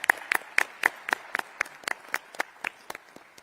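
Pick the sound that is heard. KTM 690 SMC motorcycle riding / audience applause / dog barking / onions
audience applause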